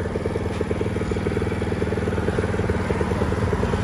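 A Kubota T1-55s power tiller engine chugs steadily with a rapid, even rhythmic clatter, loud and close, running continuously without a break.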